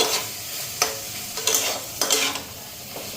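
A spoon scrapes and stirs an eggplant and leaf curry with spices and water in a pan, in a few distinct strokes over a soft sizzle.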